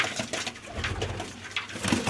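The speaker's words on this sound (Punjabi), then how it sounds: "ਇਹ ਸਾਰੇ ਹੀ ਵੱਡੇ ਕਬੂਤਰ ਆ ਜੀ" Large pigeons cooing in a loft, soft repeated coos over a steady bed of rustling and bird noise, close and continuous throughout.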